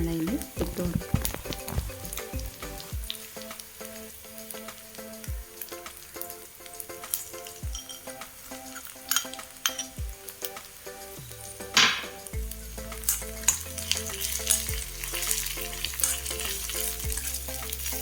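Fish frying in a pan for Kerala-style fish pickle sizzles loudly while a spoon repeatedly scrapes and stirs it. A person talks over the cooking sounds.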